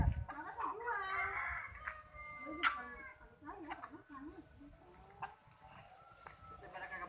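Free-range village chickens cluck and a rooster crows nearby, the calls rising and falling over several seconds with people talking faintly underneath.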